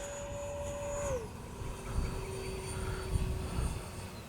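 A Freewing 64mm F-22 V2 RC jet, a small electric ducted-fan model, whines past in a steady, moderately distant drone during landing drills, its pitch sliding down as it passes and then holding a lower tone.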